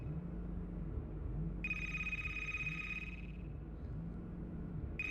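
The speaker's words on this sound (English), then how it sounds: "I hate it when people let the ringer go off for so long." A telephone ringer trills loud and steady for about two seconds, pauses, then starts again at the end, over a low rhythmic rumbling background.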